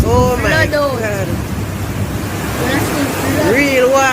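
Floodwater rushes during hurricane flash flooding in Jamaica. A loud, continuous roar of water and wind fills the scene while someone talks excitedly over it.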